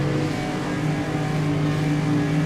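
A race car engine in rFactor 2 holds a steady revving hum while waiting at the start, even and moderately loud, with no voices.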